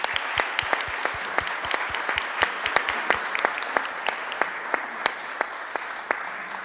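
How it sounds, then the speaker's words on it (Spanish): Audience applause at an academic seminar in Chile, a dense steady patter of many hands with a few louder individual claps standing out, moderately close and continuing without voices over it. "Un último aplauso por la asistencia de la ministra"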